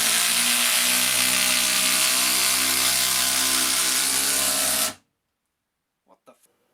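A Makita 18V impact driver runs at its highest speed, driving a screw with a loud, steady, close mechanical whine and rattle for about five seconds before stopping abruptly. A few faint knocks and a short voice follow.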